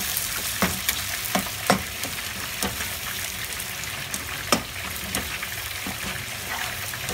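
Pasta mayo ingredients being stirred and mixed in a pan, a steady sizzling wash broken by periodic scraping and clinking strokes of the spoon, close and continuous without speech.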